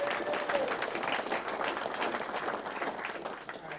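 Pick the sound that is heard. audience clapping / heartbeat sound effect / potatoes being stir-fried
audience clapping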